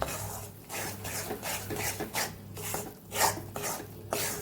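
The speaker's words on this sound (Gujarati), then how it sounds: "અહીંયા લોટ શેકાવા લાગ્યો છે અને ઘી પણ સરસ છૂટું પડવા લાગ્યું" Rajgira flour roasting in ghee is stirred in a pan, giving repeated rhythmic scraping and rasping strokes at close range, with no talk.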